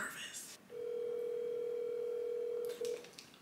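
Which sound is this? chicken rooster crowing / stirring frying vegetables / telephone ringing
telephone ringing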